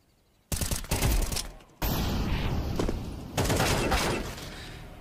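Rapid gunfire from a video game firefight, heard as two dense, loud bursts of automatic shots separated by a brief pause, followed by a longer stretch of sustained fire.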